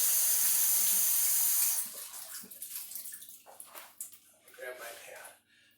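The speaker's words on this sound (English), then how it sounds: "rice pretty much should always be rinsed" Water from a tap runs steadily while jasmine rice is rinsed, a loud continuous rush for the first two seconds, then broken splashing and clinking as the flow eases.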